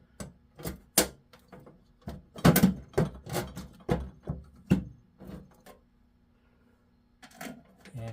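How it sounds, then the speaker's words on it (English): Metal bolts being fitted into a neon shoe-store clock housing for its transformer, heard as a series of sharp clinks and taps in irregular bursts, fairly close, then a pause before more small knocks. "now what I'm going to do is put all of the bolts in for the transformer"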